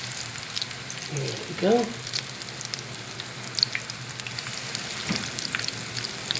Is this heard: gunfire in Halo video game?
no